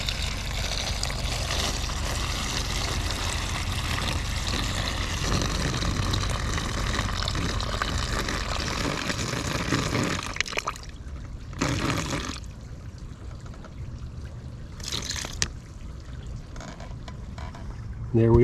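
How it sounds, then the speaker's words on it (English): Water poured into a mushroom substrate bag for fruiting blocks, a steady close splashing pour that stops about halfway, followed by quieter trickles and handling noises. "now we're going to add in our water and bring this up to 5 pounds"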